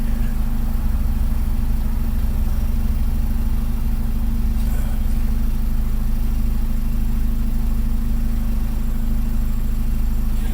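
Vehicle engine idling steadily in neutral at about 1,000 RPM while cooling down after a stall test; a constant, loud low rumble with strong droning harmonics, unbroken for the whole stretch.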